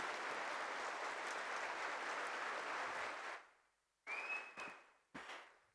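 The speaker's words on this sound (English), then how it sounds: "A huge round of applause, ladies and gentlemen." Audience at a spiritual festival applauding after a speech, a steady, dense wash of clapping for about three seconds that fades out, followed by a few brief scattered claps and a short whistle.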